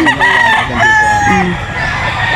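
A Sweater Gilmore gamecock stag crows in a long, loud, wavering call up close, with someone talking faintly in the background.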